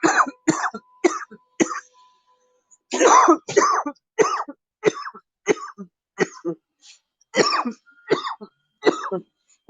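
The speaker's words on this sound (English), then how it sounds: "I'm sorry for the cough" Repeated harsh coughing and throat clearing from one nearby person, coming in uneven bursts of several coughs separated by short silences, loud and unaccompanied by any other sound.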